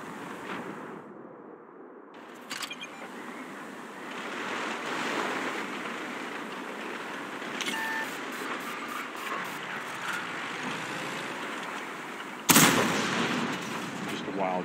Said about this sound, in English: We'll drop this artillery over here